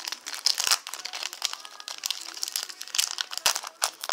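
Close, crinkly rustling and tearing of a thin plastic Flesh and Blood Crucible booster pack wrapper being pulled open, with sharp crackles throughout.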